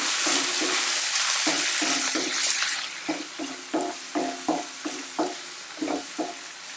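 Chopped onion fries in a pan for potato curry, a steady loud sizzle at first, then rhythmic scraping stirs, about a dozen, under the frying hiss.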